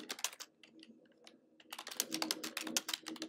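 Computer keyboard typing while writing a Gmail email, rapid soft key clicks in quick irregular bursts with a short lull in the middle, close but fairly quiet.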